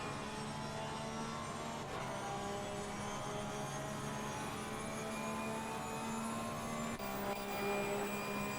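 A steady, continuous engine drone from a race car held at full throttle in Assetto Corsa Competizione at Monza, constant and fairly loud with sustained harmonic tones and no talking.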